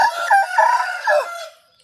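A Thai fighting rooster crows once, loud and close, a single drawn-out call that fades at the end with no other sound around it.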